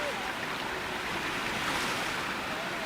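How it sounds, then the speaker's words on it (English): Swirling floodwaters rush steadily around submerged homes and bridges near Sangli city, a constant broadband wash of churning water with wind buffeting the microphone, no voices. "Submerged homes, submerged bridges, and swirling floodwaters in areas surrounding Sangli city."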